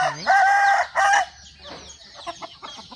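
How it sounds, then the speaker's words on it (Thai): Chickens cluck and squawk loudly close by, with a few sharp calls at first followed by softer, scattered clucking. "ไก่น้อยเต็มเลยค่ะ"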